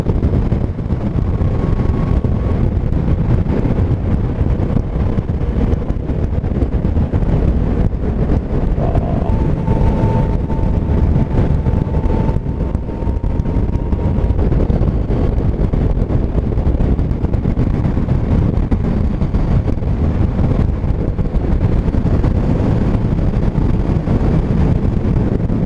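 Heavy wind buffets the microphone continuously while riding a Yamaha Niken three-wheeled motorcycle, a loud, steady roaring rush with the engine buried underneath and no talk.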